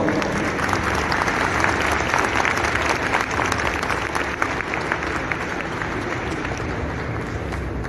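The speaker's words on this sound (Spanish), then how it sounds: "Rojas Ulo, vamos a recibirlo con un fuerte aplauso, por favor." A crowd at a formal ceremony bursts into sustained applause for the new president of the Central Bank of Bolivia, a dense, steady wash of clapping that holds at full strength throughout without pause.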